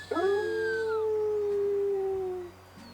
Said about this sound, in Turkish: Gördüğünüz gibi köpeğimiz uludu.